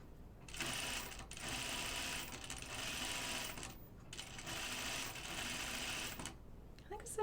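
A sewing machine stitches a gathered dress in long steady runs, pausing briefly between bursts, close and fairly quiet with a soft click at the end.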